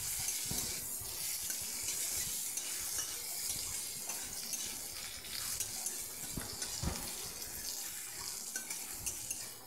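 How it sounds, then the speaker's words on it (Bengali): Sliced pumpkin frying in a pan, a low continuous sizzle with intermittent stirring scrapes and clatters, moderately quiet and with no voices. "অন্য একটি জায়গায় কিছুটা স্লাইস করে কুমড়ো ভেজে নিচ্ছি"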